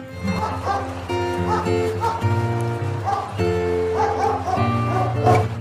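A cartoon dog barks and yips in short bursts over a steady, bright children's phonics song with singing, the yelps fairly loud and close among the music.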